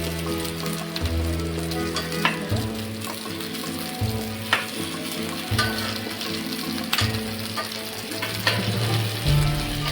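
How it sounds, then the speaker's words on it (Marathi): Stuffed kantola (spiny gourd) frying in a pan, a continuous oily sizzle and crackle with occasional sharper pops and faint stirring clinks, close and steady with no talking. "फ्राय करून घेणार आहोत आपण"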